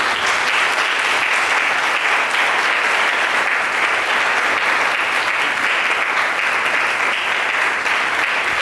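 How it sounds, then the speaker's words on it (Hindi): Loud, sustained applause from a church congregation giving thanks during a Hindi worship gathering, a dense wash of many people clapping together that stays even and close for several seconds without any speech. "प्रभु के लिए धन्यवाद ताली दें।"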